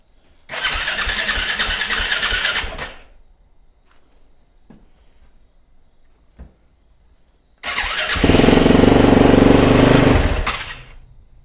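A Yamaha YZ450FX dirt bike engine fires and runs loudly for a couple of seconds, then cuts out to near silence before a second start brings a longer, heavier run that dies away again.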